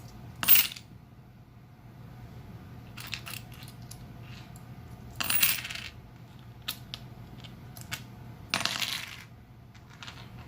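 Modern zinc-clad quarters drop and clink in three bright bursts, each followed by softer scattered ticks and rattles, close and alone over a quiet background hum.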